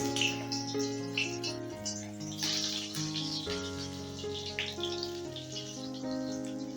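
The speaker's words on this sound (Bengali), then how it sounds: "এবারে ভেজে নিচ্ছি বেগুনগুলো" Eggplant pieces frying in hot mustard oil in a wok, a steady hissing sizzle running throughout beneath louder background music.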